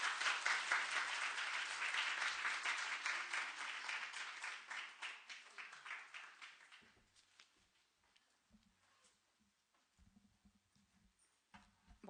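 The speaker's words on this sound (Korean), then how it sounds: "나오실 때 우리 박수로 한번 환영도 하고" A church congregation applauds to welcome a speaker to the front, with dense clapping for about six seconds that thins into scattered claps and fades to near quiet, with faint shuffling at the end.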